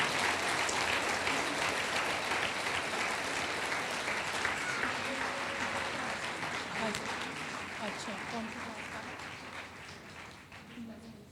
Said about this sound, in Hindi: अब आप लोग सब हम मिलकर एक बार प्रभु यीशु मसीह के लिए ताली बजाएं